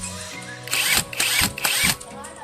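A TOPSHAK PW1 impact wrench with a 21mm socket whirs and hammers in three loud, close bursts with brief pauses between them.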